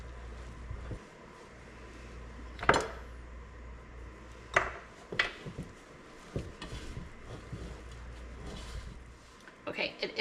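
Sticky einkorn sourdough is worked with a spatula in a bowl, giving intermittent soft scrapes and a few sharper knocks against the bowl over a steady low background hum.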